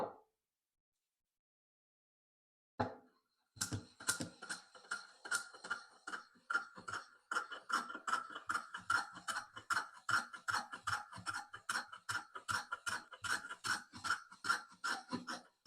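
A hand plane takes very fine cuts across spruce-pine-fir end grain on a shooting board. After a brief silence, quick, close, rhythmic strokes follow one after another, each a short dry rasp.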